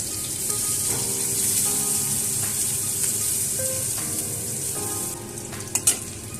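Black cumin, green chilies and crushed garlic frying in hot oil for a kachur lati dish, a steady close sizzle throughout with a few faint utensil clinks near the end.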